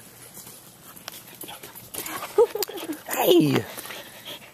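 A dog whimpers and pants close by, soft breathy panting building to a louder whining burst, while a person speaks briefly.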